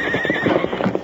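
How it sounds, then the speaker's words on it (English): A horse whinnies sharply up close with clopping hooves underneath, a short loud burst from an old radio drama western set around a haunted bunkhouse. "It is a horse."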